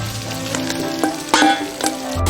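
Pork fat stir-fried with old ginger in a wok sizzles steadily, with a few sharper clinks and scrapes of the spatula breaking through the continuous crackle.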